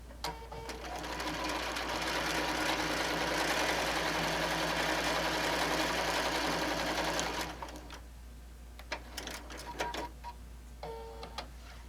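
A sewing machine stitching a potholder mitt runs in a long continuous loud whirring burst for about seven seconds, then stops, followed by scattered clicks and small handling noises up close.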